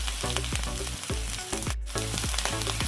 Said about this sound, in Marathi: आपला मसाला पूर्ण चांगला भाजलेला आहे पहा